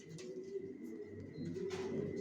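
Racer pigeons coo softly in a loft, giving low, throaty murmurs with a faint higher chirp, quiet and close against a light background hum, with no talking.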